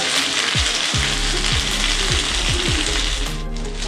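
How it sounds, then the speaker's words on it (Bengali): Chopped onion, capsicum and green chilli sizzle and crackle loudly in hot oil, with the repeated scrape and clatter of a spatula stirring them through the pan. "সবগুলোকে আমি একটু তেলে ভালো করে একটু নেড়ে নেব"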